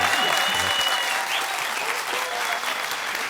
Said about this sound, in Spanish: vamos a darle la bienvenida a Esteban Cruz y un aplauso Bogotá a JJ Benítez, por favor.